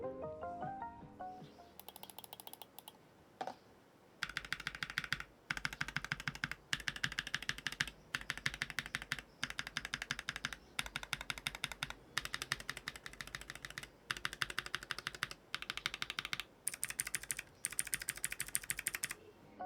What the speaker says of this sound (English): The switches definitely have some impact on the sound and the feel of each click and the typing experience